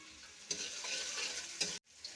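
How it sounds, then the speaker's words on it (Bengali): Chopped garlic frying in a pan, a steady close sizzle with two brief stirring scrapes and a sudden momentary drop before the hiss resumes, with no voices. "আর এখানে একটা রসুন কেটে রেখেছি, একটু ভেজে নেব"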